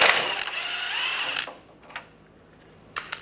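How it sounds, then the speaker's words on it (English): A power driver or ratchet whirs steadily for about a second and a half, turning a 13 mm socket on skid shield bolts under a 1996-2002 Toyota 4Runner, then brief mechanical clicks follow. "we're going to take this shield down using a 13mm socket"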